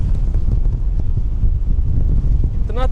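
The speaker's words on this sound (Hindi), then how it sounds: "इतनी तेज़ हवा है" Strong wind roars across a cruise ship deck at sea during a storm off Korea. The gusting is loud, close and unbroken for the whole stretch, with a brief voice at the very end.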